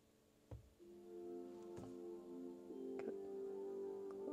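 BYD Seal electric car's AVAS pedestrian warning sound, a faint low sustained tonal hum heard from inside, with a few soft ticks and clicks along the way.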